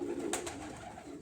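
A pigeon gives a short, soft coo, faint and close, over a steady background hum, with a brief flutter-like click partway through.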